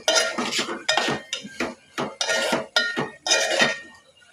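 Potato and chickpea curry stirred in a pot, with a steady run of loud, close metallic scrapes and clanks of a spoon against the pot, repeating in short rhythmic bursts.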